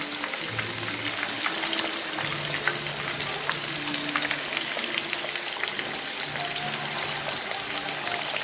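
Steady crackling sizzle of tempeh and tofu bacem frying in hot oil, continuous fine popping and spitting, close and moderately quiet, with no talk.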